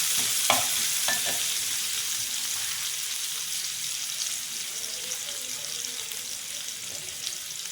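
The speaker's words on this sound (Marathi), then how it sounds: "हे सगळं आपल्याला भाजून घ्यायचं आहे" A paste of garlic, ginger and chili sizzles steadily in a hot pan, with occasional scraping stirs, close and continuous.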